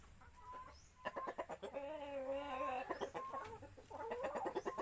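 A rooster clucks and calls in a series of short, throaty notes with a drawn-out wavering cry in the middle, close by and fairly quiet against a low background hum.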